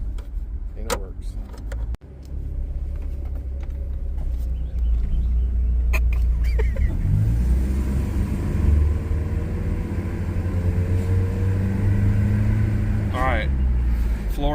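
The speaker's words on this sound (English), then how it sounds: "Flooring it, I managed to hit 25 before the speed bump." A Jeep Cherokee XJ revs up as it is floored from a slow start, a steady low rumble filling the cabin for most of the stretch with brief mechanical clicks early on, no speech over it.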